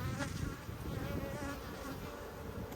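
Close, continuous buzzing of many honeybees in an open beehive during a frame inspection, a dense steady drone with no talk over it.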